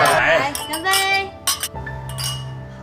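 Glasses clink together in a toast at a family gathering, several bright ringing taps in quick bursts over voices and the hum of a room, the chimes lingering briefly after each contact.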